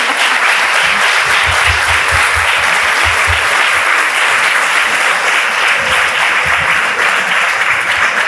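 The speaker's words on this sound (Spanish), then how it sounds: "Claro, pues un aplauso." Loud, dense audience applause fills a book day gathering with a writer, a steady roar of many hands clapping from start to finish without any voices.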